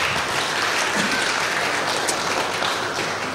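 A church congregation applauds during a Sunday service dedicating a preschool and playtime group. The clapping is loud and continuous, a dense crowd wash with no pauses.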